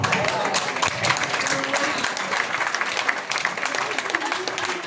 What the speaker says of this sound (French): on applaudit Sylvie très fort.